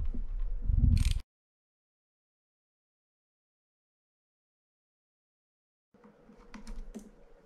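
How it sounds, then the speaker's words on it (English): Screws are undone on the click plate of a Penn International 20 fishing reel, heard as short bursts of small clicks and scrapes at the start and near the end, separated by several seconds of silence. "So remove the click plate, simply undo these screws."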